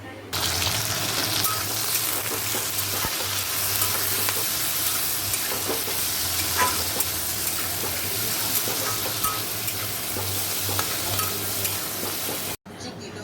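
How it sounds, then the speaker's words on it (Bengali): Ivy gourd (kundru) fries in hot oil tempered with nigella seeds, giving a steady, close sizzle with occasional scraping stirs that runs the whole time and cuts off just before the end. "চলো এবার এই কুদ্রিটা ভেজে নিই আর কালো জিরে ফোড়ন দেবো"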